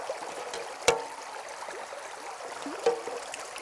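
Water trickles and streams while a gold-panning sluice is rinsed, a soft steady flow with a couple of brief splashes or knocks standing out.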